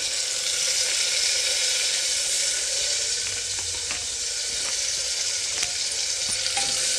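Sliced onions, ginger and garlic fry in a pan for paneer masala rice, making a continuous, dense, close sizzle that stays even throughout, with faint scattered crackles and no voices.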